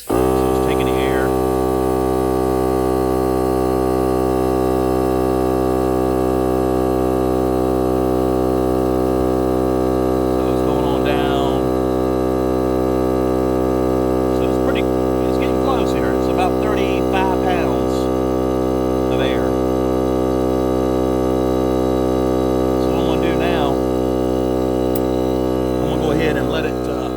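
A well water pump runs steadily as it fills a pressure tank, giving a constant low droning hum with a buzzy edge. A few faint clicks and taps sit on top of it.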